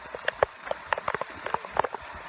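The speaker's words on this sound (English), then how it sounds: "it's a lot of rain" Heavy rain on a canoe trip on the Allagash Wilderness Waterway, falling as scattered, irregular drops that tap close by on a surface, fairly quiet, with no voices.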